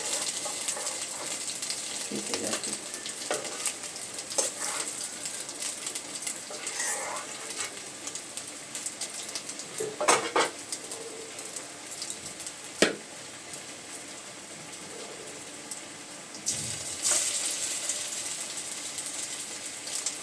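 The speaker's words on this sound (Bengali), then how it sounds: "ভাজা হয়ে গেছে আমি এক করে তুলছি" Prawn fritters fry in hot oil with a steady, close sizzle and crackle, and occasional louder pops and clinks are heard.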